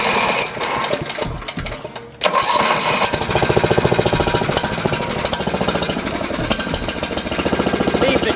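A small gasoline pump motor on a crash truck's foam resupply unit catches after a brief start and keeps running with a loud, rough, rapid chugging. The sound is close and steady, with no speech.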